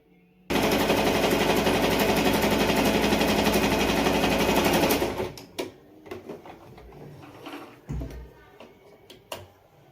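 A sewing machine stitches a six-panel petticoat in one fast, continuous buzzing run of about five seconds, then stops, leaving scattered handling clicks and rustles of fabric.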